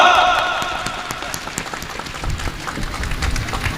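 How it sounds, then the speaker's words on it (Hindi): A ceremony audience claps in welcome, loose scattered applause that thickens toward the end, while a voice speaks briefly over the start. "आप सबकी जोरदार तालियां"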